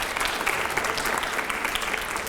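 Steady applause from a crowd, dense clapping sustained throughout at a moderate distance.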